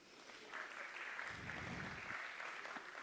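Audience at a TEDx talk claps together in a soft, even spread of applause, heard faint and somewhat distant.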